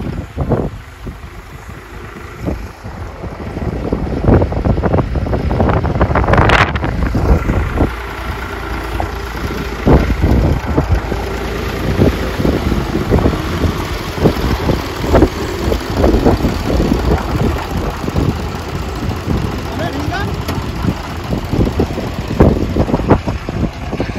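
A tractor engine idles in the rain, a steady low rumble under a constant hiss of falling rain, with scattered knocks and rattles throughout and one sharp clatter early on.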